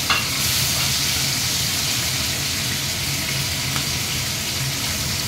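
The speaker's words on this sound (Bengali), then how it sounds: "এই রসুন কতগুলো রসুন দিয়ে দিলাম, 10-12টা দিয়ে এগুলোকে এখন ভাজছি" Garlic cloves sizzle in hot oil with tomato and green chilli, a loud, continuous frying hiss that stays even throughout with no talk.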